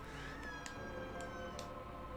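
A pet cat meows several times indoors, three short faint cries over a low background hum.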